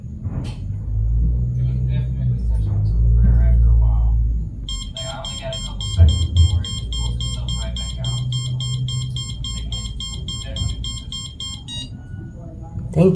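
A ghost-hunting device's fast, high electronic beeping starts partway through and repeats steadily for several seconds, sounding over a low rumble and occasional talking, at an inn in Gettysburg.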